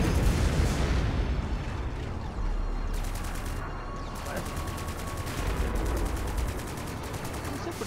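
Spaceship weapons in the space combat game Strike Suit Zero keep firing in rapid bursts of loud, dense gunfire over a heavy low rumble, continuous throughout the clip.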